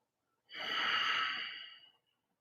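A single deep, slow breath, part of a relaxation drill of breathing into the left side, sounds close and soft as one airy exhale of about a second and a half, with silence before and after.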